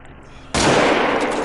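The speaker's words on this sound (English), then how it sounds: "the gun went off by accident" A sudden loud gunshot goes off accidentally in the hunting video game The Hunter: Call of the Wild, a single sharp blast after a quiet start, followed by a sustained roaring tail.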